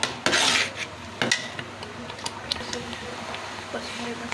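Semolina halwa (suji ka halwa) being stirred in a pan: a spoon scrapes and clinks against metal in irregular strokes, with a few sharper knocks, close and moderately loud over a low steady hum.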